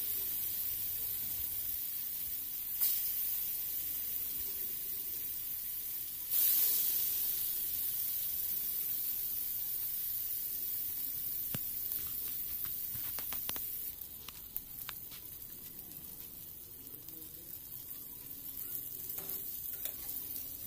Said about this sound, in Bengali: মাছগুলো আমার ভাজা হয়ে গেছে